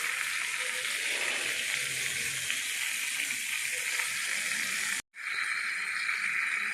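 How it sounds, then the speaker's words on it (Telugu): Onion paste hits a hot pan in a home cooking setting and sizzles with a bright, steady hiss. The hiss cuts out briefly near the end, then returns just as strongly. "ఇప్పుడు ఉల్లిపాయ పేస్ట్ వేసుకోవచ్చు"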